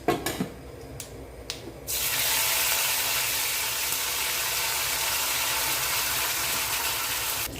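Mustard, fennel and cumin seeds hit hot oil for tempering: a few faint pops at first, then a loud, sustained sizzling hiss that holds steady to the end.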